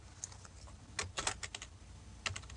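Light clicking of a computer keyboard, typed in short irregular bursts, quiet and close with no voice over it.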